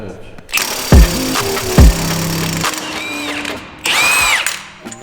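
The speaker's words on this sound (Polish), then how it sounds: "to teraz udar" An impact drill or wrench works on a go-kart, firing in short, loud, rattling bursts near the mic, with people talking in between.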